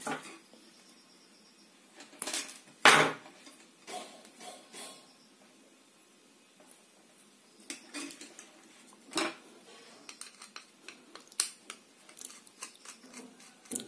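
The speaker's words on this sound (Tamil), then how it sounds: "நான் வந்து இந்த நிப்பரில் கட் பண்ணுறேன் அதனால் ஒயர் வந்து கட் ஆகும்" Sharp clicks and snaps of a nipper cutting electrical wire at a workbench, with a louder cut near the start and scattered metallic ticks later, close and fairly quiet with no talking.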